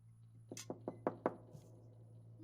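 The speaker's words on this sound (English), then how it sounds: "Let's knock on the door." Five hollow knocks rap on a door in the video game Becrowned, evenly spaced and fairly crisp over a low steady hum, followed by a faint softer thud.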